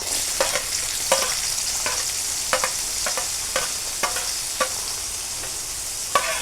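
Onion frying in a pan with fish, fried soybean chunks and lightly fried potato, a steady hiss of oil broken by repeated scraping stirs of a spatula, close and fairly loud.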